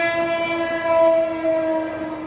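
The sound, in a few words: passing train near a railway station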